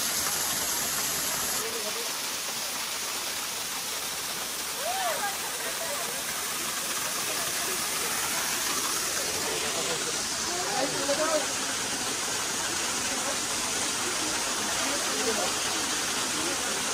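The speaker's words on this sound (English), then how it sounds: "this is the famous Himchori waterfall, and I'm standing right beside it" The Himchori waterfall rushes in a constant broad roar of falling water heard from right beside it, with faint voices and brief chatter mixed into the steady wash.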